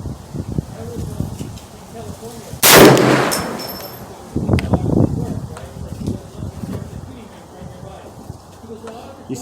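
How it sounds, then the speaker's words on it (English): A single loud, sharp rifle shot from a 450 Bushmaster firing Hornady 245gr SP ammunition at an outdoor range, ringing briefly before fading, with someone speaking quietly after it. "I'm gonna be squeezing my first shot at the lower target."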